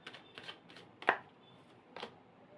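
Tarot cards are shuffled and riffled quietly in a few short, crisp bursts with one sharper snap in the middle, set against near silence with no one speaking.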